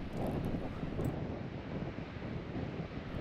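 Wind on a Danish North Sea beach roaring steadily into the microphone, a loud continuous broadband rush with gusty buffeting throughout and no speech.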